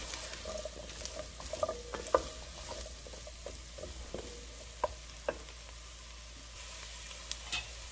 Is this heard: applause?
no